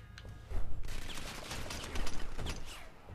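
Bursts of video game gunfire in Crackdown, a loud clattering volley near the start and another around two seconds, over a busy wash of in-game action with no talk.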